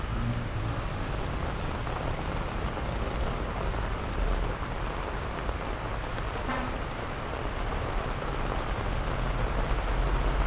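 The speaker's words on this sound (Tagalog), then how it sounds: "Ang lakas na ng ulan, guys." Dense, steady downpour of heavy rain drumming on surfaces close by, a continuous roar with no talking.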